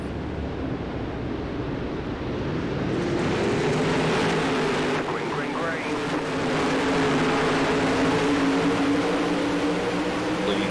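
Pack of 360 sprint cars racing at Knoxville Raceway in iRacing, a continuous layered engine drone with rising and falling pitch sweeps as cars pass, steady and loud throughout, with commentary over it.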